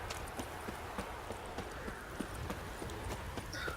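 Horse hooves clip-clop at a steady galloping rhythm in The Witcher 3, a fairly close, continuous run of hoofbeats with no talking over it.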